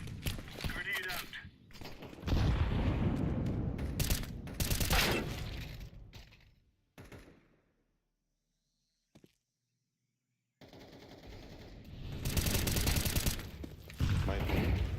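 Video game combat: heavy bursts of gunfire and grenade blasts, loud and dense, break off into near silence with one brief pop, then a fresh barrage of shooting resumes.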